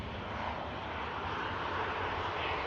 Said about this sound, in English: Aircraft heading up to Aberdeen in Scotland. As the 273 vacates in front of us here.